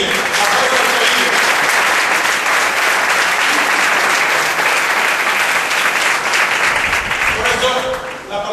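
A church congregation applauds in a long, loud burst of massed clapping, holding steady before thinning slightly near the end.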